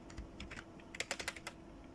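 Fingers type HTML code on a computer keyboard, a quick run of sharp key clicks in a close, quiet room, with a few soft taps before the main burst.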